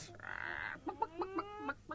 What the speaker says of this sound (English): The hens must have got out again.